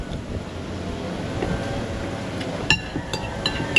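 Steady wind rushes at an open-air eatery beside the water as a broad, continuous roar, with a few brief knocks and clinks near the end.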